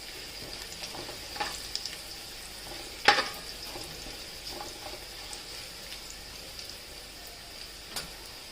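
Whole cardamom, cinnamon sticks, cloves and peppercorns frying in hot oil in a pan, giving a soft continuous sizzle with scattered pops and one sharper crackle, close and fairly quiet.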